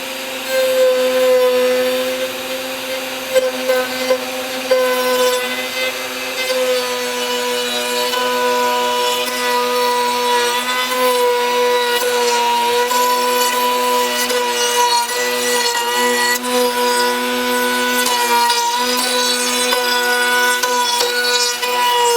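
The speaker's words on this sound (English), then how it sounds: "Router to the side, gonna go into actual surface, routing it away." A router cuts into the surface of a wooden deck for outdoor use, producing a loud, sustained whining grind that holds steady with slight shifts in pitch and a few brief dips as the cut changes.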